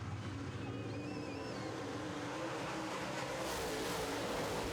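Late model stock cars roar at a dirt-track start, a steady, dense wall of engine noise that swells slightly toward the end, heard from a distance with no talk.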